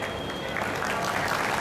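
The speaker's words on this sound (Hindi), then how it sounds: "जोरदार तालियों से पीके भाई का स्वागत कीजिएगा" Audience at a poetry event clapping to welcome a poet on stage, a short burst of steady applause that grows slightly louder, with a voice faintly underneath.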